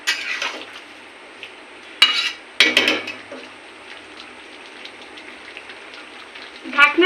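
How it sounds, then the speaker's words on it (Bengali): A pumpkin and egg dish being gently mixed by hand in a cooking pan, giving a few short scraping and clinking bursts separated by quiet stretches over a soft steady background hiss. "আলতো হাতে এইভাবে একটু মাখিয়ে দেব।"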